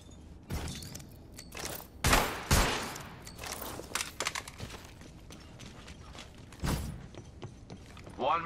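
Havoc rifle shots in a video game, scattered loud cracks and short bursts amid mechanical clicks and clatter, with a few pauses between volleys.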